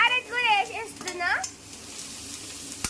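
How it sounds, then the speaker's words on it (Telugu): Carrots drop into onions and curry leaves frying in a pan; a voice talks over the start, then a soft, steady sizzle carries on faintly alone. "తర్వాత క్యారెట్ కూడా వేసేస్తున్నా"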